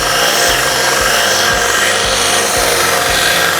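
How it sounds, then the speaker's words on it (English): A belt sander smooths the cut end of a metal fork for a heart necklace, a loud continuous abrasive grinding with rhythmic back-and-forth strokes. "So you just turn that belt sander on and just smooth it out, back and forth."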